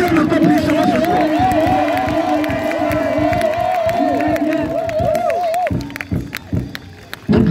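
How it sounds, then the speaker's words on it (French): A church congregation at an evening Christmas seminar in Côte d'Ivoire loudly acclaims and cheers, a dense sustained crowd roar with whoops and a long rising-falling chanted tone, fading near the end into scattered shouts. "Je veux que tu l'acclames encore puissamment ce soir."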